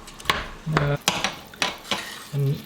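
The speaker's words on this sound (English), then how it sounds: "So now you just mix this well" Spices being stirred together in a pan for gluten-free, dairy-free butter chicken, giving a few sharp clinks and scrapes of utensil against metal in an irregular rhythm, close and fairly clear, with no talking.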